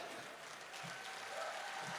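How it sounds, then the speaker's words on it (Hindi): Faint, distant clapping rises from the audience at a Kavi Sammelan poetry gathering under a tent, a soft continuous patter heard from far off. "ये तालियां वसीम साहब के लिए बहुत कम है।"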